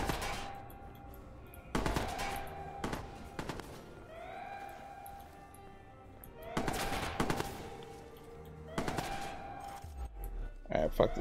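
SMG fire in the Watch Dogs video game comes in several sharp bursts of rapid shots separated by pauses, loud and close, with other game sounds in between.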